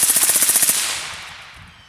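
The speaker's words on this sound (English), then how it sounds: "CZ805 Bren with the Thompson Machine 30 Ti. Two round burst." A suppressed CZ 805 Bren rifle fitted with a Thompson Machine 30Ti suppressor fires a short rapid burst of sharp reports, loud and close, then a fading echo trails off.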